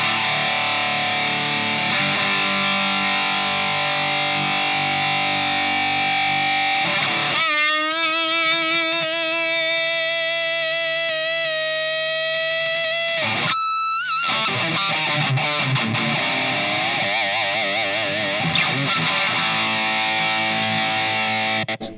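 Electric guitar through a Lindo Mind Control distortion pedal with the gain turned all the way up, loud and sustained: a chugging riff gives way to long ringing held notes, then a burst of rapid, busy playing, with no voices.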